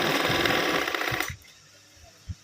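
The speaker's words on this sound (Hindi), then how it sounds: "अच्छी तरह से इस पर सिलाई लगा देंगे इस तरह से" A sewing machine whirs rapidly and steadily while stitching salwar fabric, running loud and close for over a second before stopping abruptly, followed by a quiet pause and a small knock.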